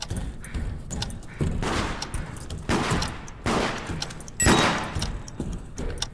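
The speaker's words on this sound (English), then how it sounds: "nice shot, Josh!" Gunfire in the multiplayer game Deceit comes in several sharp bursts of shots over a few seconds, close and loud against a busy game background.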